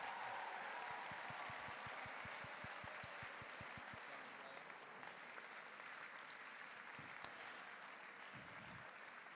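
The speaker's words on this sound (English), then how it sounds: "biggest round of applause for our Year 7s and our Upper Six and Senior School students" A school audience at a House Music evening claps for Year 7, Upper Sixth and Senior School students, distant, steady applause heard throughout while a faint rhythmic thumping runs under the first few seconds.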